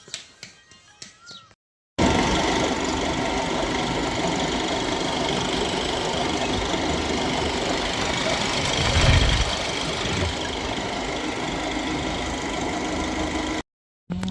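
A motorcycle engine runs steadily close by for about twelve seconds, a continuous rough drone that swells briefly near the middle before cutting off.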